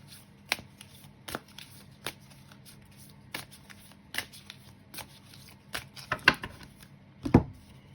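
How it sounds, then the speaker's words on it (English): Oracle cards being shuffled during a tarot reading, a series of quick papery riffles and snaps at irregular intervals, fairly close and dry, building to a few louder flicks near the end, with no voices. "I'm going to move on and look at some oracle cards for you."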